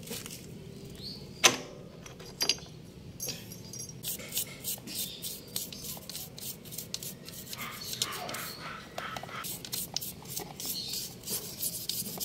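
Dirty drum brake shoe from a Yamaha Aerox 155 scooter being cleaned by hand, giving steady close scratchy rubbing and scraping strokes with a few sharper scrapes early on, no talking.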